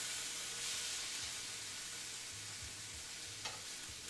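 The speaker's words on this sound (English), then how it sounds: "Sizzle. Love the sizzle." Steady, close sizzling from steak fajitas frying in a hot pan, a continuous crackling hiss with faint stirring and scraping.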